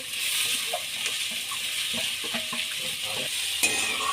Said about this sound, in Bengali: সন্না ফুলটাকে হালকা করে ভেজে নিতে হবে।